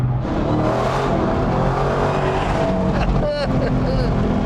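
A 2023 Dodge Demon 170 runs with a steady, loud engine roar that holds for the whole stretch, with a brief rising whine near the end and some voices under it.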